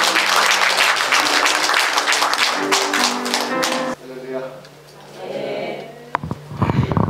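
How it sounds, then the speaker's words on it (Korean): Congregation applause during a Korean church worship service, a dense clatter of clapping mixed with sustained keyboard or music tones that drops away partway through, then swells again near the end. "우리 하나님께 영광의 박수를 돌려드리겠습니다"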